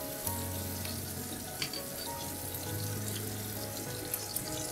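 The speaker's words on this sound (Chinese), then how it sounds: "我们搁两汤勺的油， 把这个剩下的蒜末全倒下去" Minced garlic hits two tablespoons of hot oil and fries with a steady, dense sizzle that holds throughout, marked by a few small clicks and a low background hum.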